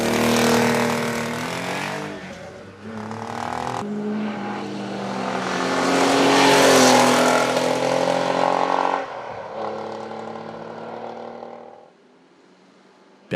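A Porsche 911 SC historic race car climbs a hill course, its engine loud and close as it revs hard through several gear changes, then fades quickly as it pulls away.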